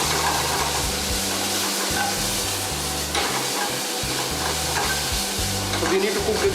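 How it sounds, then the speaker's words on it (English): Ginger garlic paste and onions sautéing in a pan, a steady sizzling hiss with rhythmic stirring scrapes and a low hum from the stove underneath, moderately loud and close. "So we need to cook the ginger garlic paste and the onions together for around 1 minute."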